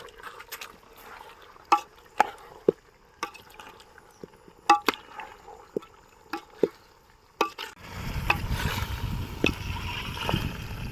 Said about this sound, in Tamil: மல்லி பவுடர் போட்டுடலாம்பா கிண்டிக்கலாம்பா